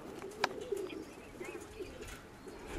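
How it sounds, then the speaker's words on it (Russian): Nikolaev pigeons give soft, low coos close by, a few brief murmuring calls spread across a quiet background with a sharp click or tap near the start. "Витя говорит, что да, эти, это Николаевские, это Николаевские голуби"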